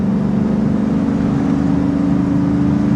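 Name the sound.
pickup truck engine running while driving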